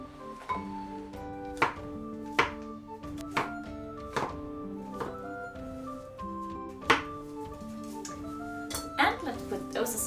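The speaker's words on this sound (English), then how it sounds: "Slice the mushrooms into some big pieces." Mushrooms are sliced into big pieces on a cutting board for a stew. Separate knife thunks land about once a second, close and soft, with some light clinks of kitchenware.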